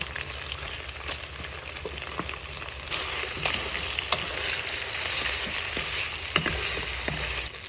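Garlic fries in hot oil in a home kitchen, giving a steady, dense sizzle with scattered crackles and pops, close and continuous with no voices.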